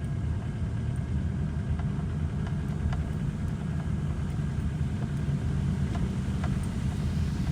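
Ford car engine with a knocking fuel injector while driving smoothly: a steady, loud low rumble runs throughout, with faint, regularly spaced ticks over it.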